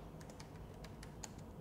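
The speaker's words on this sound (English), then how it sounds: "use your keyboard to start typing" Computer keyboard keys tapped while typing text into a selected shape in Microsoft Word, a quick, light run of soft clicks close by with no talking.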